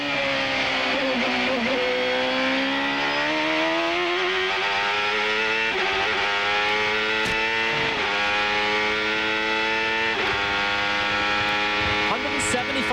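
1995 CART IndyCar race car at Portland heard from onboard, a loud steady engine drone with pitch sliding as it downshifts to second gear, mixed with a constant electrical hum.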